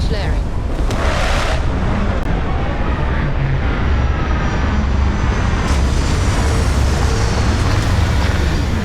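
A spaceship landing in the video game Starfield makes a loud, steady engine roar with a rushing hiss throughout.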